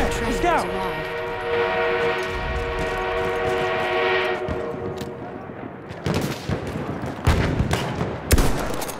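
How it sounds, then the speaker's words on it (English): An enemy armored train approaches in the video game Battlefield 1: a prolonged, multi-toned train whistle sounds over battle noise, then gives way to bursts of gunfire and explosions, with voices speaking over it. "An enemy armored train is en route."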